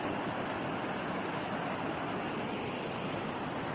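Water rushes beneath a small local bridge in Khaju village in Kargil, making a dense, steady hiss with no break that stays moderately loud throughout.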